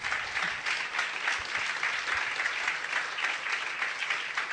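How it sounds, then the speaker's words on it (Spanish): A church congregation applauds loudly at a Holy Week congress, standing to give thanks; steady, dense clapping fills the whole stretch with no voices over it. "Denle un aplauso fuerte."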